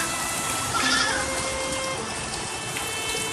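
Goats bleat faintly a short way off on a homestead in the rain, a brief nasal cry rising over a steady background hum outdoors.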